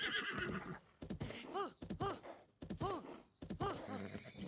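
A horse with orange hair neighs in Zelda: Breath of the Wild, several loud shrill whinnies with wavering pitch spaced about a second apart, mixed with snorts and hoof sounds close by.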